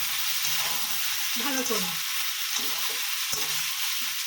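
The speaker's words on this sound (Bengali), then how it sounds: "মাছটা দিয়ে আমি একটু ভেজে নেব" Amudi fish frying in a pan, giving a steady close sizzle with scraping stirs throughout, while a person speaks briefly over it.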